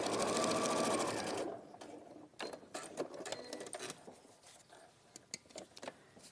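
A sewing machine runs a fast, loud top-stitching burst, then stops, followed by scattered clicks and handling knocks as the fabric is adjusted.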